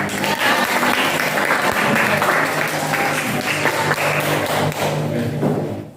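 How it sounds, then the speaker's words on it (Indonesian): A classroom claps for a presentation group, a sustained dense round of hand clapping with some thumps and taps, fading out at the end. "Ya, tepuk tangan semua untuk kelompoknya"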